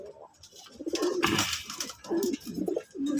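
A racing pigeon coos close by, with soft, throaty repeated coo phrases rising and falling over a few seconds, and no talk.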